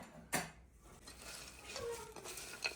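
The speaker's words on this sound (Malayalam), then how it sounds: "എല്ലാം കൂടി ഇങ്ങനെ മിക്സ് ചെയ്തിട്ട് കുറച്ചിങ്ങനെ സ്പ്രിങ്കിൾ ചെയ്ത് കൊടുക്കും" Mutton and rice being mixed with utensils in a cooking pot: a sharp clack of metal on the pot, then faint scraping and stirring sounds, quiet and close with no talk.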